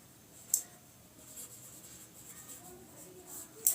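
Chalk or a marker scratches softly across a board while an answer is written out, with two sharp taps at the start and end of the stroke in a quiet room.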